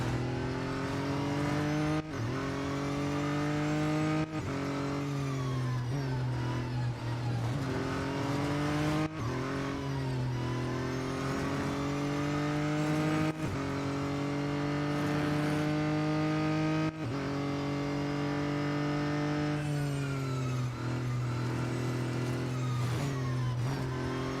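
Race car engines in the Real Racing 3 mobile game, a loud steady high-revving whine with repeated sharp gear-shift drops every couple of seconds as the car climbs through the gears on a final lap, no voices.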